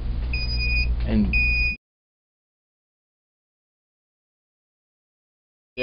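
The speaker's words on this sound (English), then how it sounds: "there's your alarm. Flashes alarm on the right-hand side." A Jerome J405 mercury analyzer goes into alarm after a sample, giving a steady electronic beep tone over a low mechanical hum for under two seconds, then silence until the hum briefly returns at the very end.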